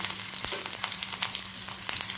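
Mustard seeds spluttering in hot oil, a close bright sizzle peppered with quick pops and crackles over a couple of seconds.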